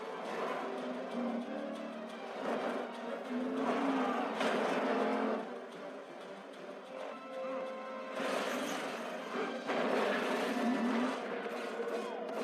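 Engine roar and revving from a police car and a pursued car during an action-film chase, surging in waves and swelling again near the end, mixed with other film sound effects.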